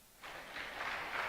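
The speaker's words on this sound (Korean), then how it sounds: "세 가지 다 맞은 분은 박수 한번 쳐봐요" A church congregation at a Sunday worship service in Pyeongtaek breaks into brief, soft applause, a short burst of scattered clapping that swells quickly from a hush.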